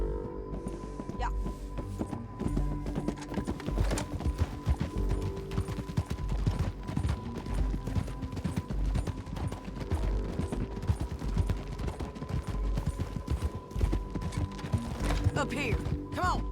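Horse hooves clip-clop at a steady walking pace along a road in Red Dead Redemption 2, with creaking tack, ambient game sound and occasional speech over the continuous hoofbeats.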